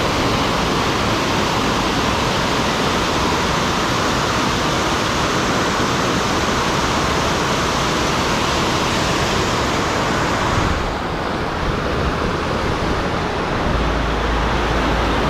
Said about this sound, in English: there is enough water to make a roaring waterfall.